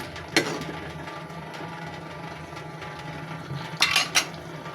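A spoon stirs chili powder into frying taki fish in a pan, giving a few sharp metallic scrapes over a steady low sizzle.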